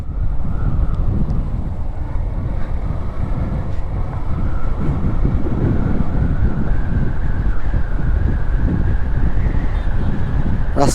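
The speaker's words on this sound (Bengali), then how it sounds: "এই রাস্তা দিয়ে আমরা বাইক চালিয়ে যাচ্ছি" A Suzuki SF motorcycle rides along a road toward Cox's Bazar, its engine a continuous drone with a slowly rising tone, nearly buried under loud, constant wind buffeting the microphone.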